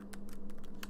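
Rapid typing on a computer keyboard set up on a raised stand, a quick run of close, crisp key clicks with a steady low hum underneath and no talking.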